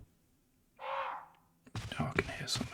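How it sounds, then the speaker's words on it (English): A bird caws once in the Resident Evil video game, a short harsh call, then someone talks over a noisy background. "Oh, it's a bird."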